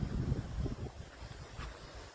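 Steady wind buffets the microphone with low rumbling gusts, fairly loud throughout with no voices.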